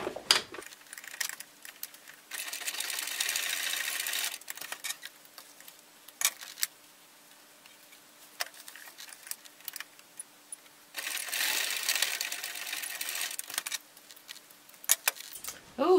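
A sewing machine basting fabric onto a bag runs in two long steady stretches of soft whirring with rattly gaps between them, fairly close, with no talk.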